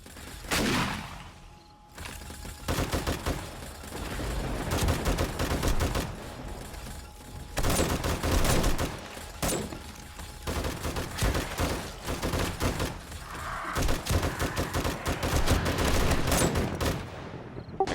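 Sustained, dense volleys of gunfire ring out in 7 Days to Die from a modular mega killbox on a multiplayer server, loud and rapid with short pauses between heavy bursts and no talking.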